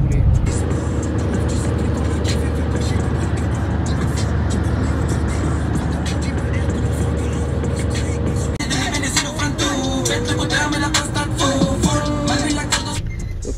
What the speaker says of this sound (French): on va juste rouler